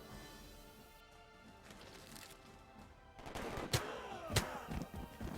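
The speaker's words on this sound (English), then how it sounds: "Now that we've attacked with our riflemen," Rifle gunfire from riflemen attacking in Civilization 5, a few sharp shots and a ragged burst that swell loud in the second half after a quieter stretch of game music and ambience.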